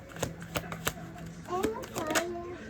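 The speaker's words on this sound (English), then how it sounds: "I'm going to shuffle one more time, and then if nothing comes out, we're going to switch to the other deck" A deck of tarot cards being shuffled by hand, with quick riffling and snapping bursts in an irregular rhythm, heard up close, with a voice speaking softly alongside.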